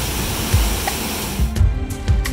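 Waterfalls pour over carved rock walls into a clear pool at Lubuk Kudo, a loud, dense, continuous roar of falling water with a few low thumps from the spray and churn.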